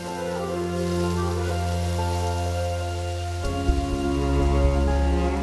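Steady rain falling on the South American rainforest, a dense continuous wash under a sustained musical drone that shifts partway through.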